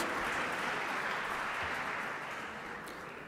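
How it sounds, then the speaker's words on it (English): Applause fills the hall at the 13th Bharatiya Chhatra Sansad student parliament, a faint, dense patter of many hands that holds steady and then tapers off. "a big round of applause for Rahul Vishwanath Karad sir for this"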